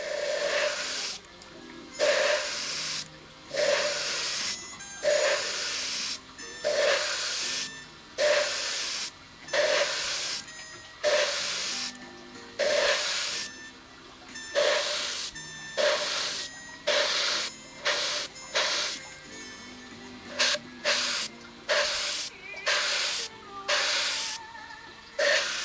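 Airbrush spraying tiger-cat ink in a steady series of short hissing bursts, each about a second long with brief pauses between, close and fairly loud with no talking.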